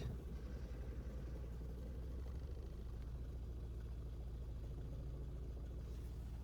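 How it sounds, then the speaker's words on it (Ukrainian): A ZAZ Sens car engine idles on LPG gas, giving off a faint, steady low hum that holds an even pulse with no other sounds. "Зараз працює газ, стою на холостих"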